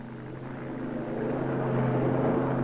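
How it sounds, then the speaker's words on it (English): C-46 transport aircraft drones overhead, a low steady propeller hum that grows slightly louder over a few seconds. "C-46 transports begin to move the 2506 Assault Brigade out of the camps"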